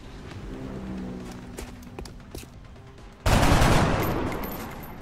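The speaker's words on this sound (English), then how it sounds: "Before I do this, I can take a bunch of shots." Gunfire from the XCOM video game on impossible difficulty: quieter shots give way to a sudden loud, sustained burst of rapid fire that slowly fades, with no talk over it.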